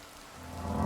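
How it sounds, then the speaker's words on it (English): Rain falls in Oblivion Remastered, a soft steady wash of patter that swells slightly over a brief stretch, with no voices. "Especially rain."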